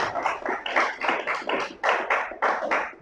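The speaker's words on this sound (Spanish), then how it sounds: "Dele un aplauso al Señor." A church congregation claps in bursts of quick, uneven applause with a rhythmic pulse, close and lively, and no one speaking.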